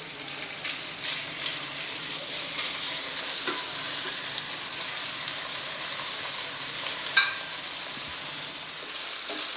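Small chicken pieces frying in a pan with lightly browned base for chicken macaroni, a steady close sizzle and hiss with occasional stirring scrapes and clicks, no voices.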